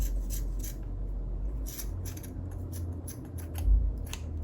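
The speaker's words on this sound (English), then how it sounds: "I'm just gonna take my scissors" Scissors snip uneven macrame cord ends on a plant hanger, a series of crisp, close cuts in an irregular rhythm against a low background hum.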